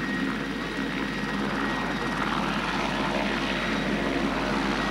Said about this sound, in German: Ja, und dann aus dem vierten Hubschrauber.